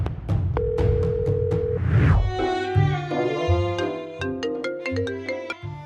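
A phone rings during an outgoing call in a prison escape challenge, with repeated electronic ringtone chimes and musical tones that rise and fall in short bursts, loud and close.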